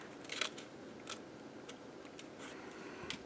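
Scissors cut fabric for bell bottoms in a series of quiet, crisp snips spaced irregularly over a few seconds, close and faint, with no talking.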